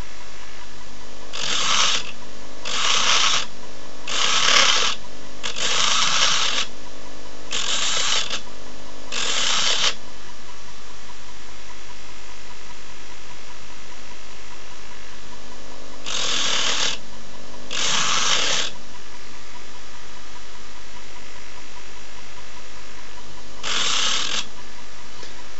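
A grinding disc deburrs the ends of cut steel rods in short repeated bursts, several in a quick run, then a pause, then a few more, each a buzzing grind over a steady background hum.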